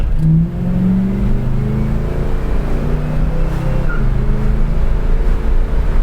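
A 1971 Oldsmobile 442 W-30 engine revs and accelerates loudly up close, a deep steady rumble throughout, with a brief tire chirp near the start.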